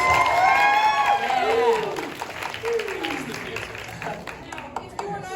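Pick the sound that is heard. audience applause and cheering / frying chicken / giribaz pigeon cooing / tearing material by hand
audience applause and cheering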